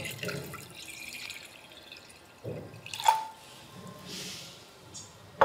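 Water poured into a container to make a brine for Hungarian plums, a few brief splashing and trickling bursts with quiet gaps between, close by and moderately loud, without talk.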